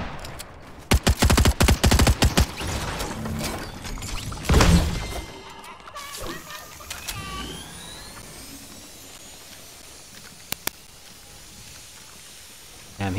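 Video game gunfire crackles in sharp, rapid bursts early on, joined by a heavier boom midway, then thins to scattered isolated shots over a quieter background.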